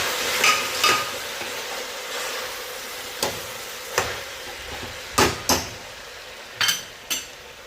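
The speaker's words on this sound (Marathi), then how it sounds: "आता हे मस्त परतून घेऊया" Masala for Nagpur-style masale bhat sautéing in a pan, a steady low sizzle with a spoon scraping and knocking against the metal in irregular clusters of sharp clicks, close and alone.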